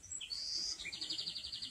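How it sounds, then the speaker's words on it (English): A white-crowned sparrow sings outdoors, a clear high whistled phrase followed by a rapid buzzy trill, fairly close and alone over a soft background hiss. "Hear that bird? It's a white-crowned sparrow."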